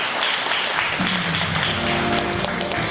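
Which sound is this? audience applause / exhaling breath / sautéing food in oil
audience applause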